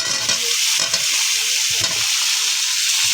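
Potatoes frying in a pan with onion and tomato for a pond fish curry give a steady, close sizzle with soft stirring scrapes and no talk.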